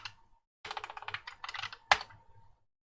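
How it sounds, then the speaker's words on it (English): Short run of typing on a computer keyboard, quiet and close, a cluster of quick key taps ending in one sharper keystroke, with no talk over it. "If you type something in, let's say line"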